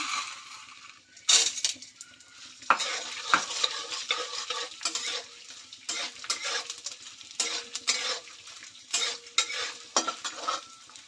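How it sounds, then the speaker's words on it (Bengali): Gond, the edible gum, fries in ghee in a pan while a spoon stirs and scrapes, making crackling sizzle and repeated metallic clinks that come in uneven bursts over steady frying noise. "এইভাবে পুরো গন্ধটা আমি ভেজে নেব"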